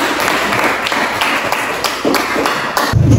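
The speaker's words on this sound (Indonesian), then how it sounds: "Beri tepuk tangan untuk." A classroom group claps for the top-scoring students, loud and close, with quick irregular hand claps and thumps that break off near the end.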